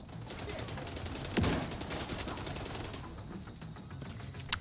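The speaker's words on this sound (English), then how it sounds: "This light machine gun's awesome." A light machine gun fires in The Division 2: Warlords of New York, a steady, fairly quiet automatic rattle with one sharper burst early on and a brief spike at the close.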